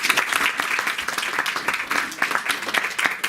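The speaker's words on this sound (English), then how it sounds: "putting our hands together and giving you a big round of applause" A small indoor audience at a home lecture program gives a round of applause, close, brisk, uneven hand clapping that carries steadily through the moment with no talk over it.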